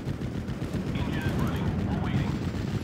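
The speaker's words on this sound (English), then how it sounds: "Beautiful ammo explosion there on the command tank." A command tank's ammunition explodes in Steel Division 44, heard as a muffled blast amid distant gunfire and battle rumble, with scattered tonal whistles layered in.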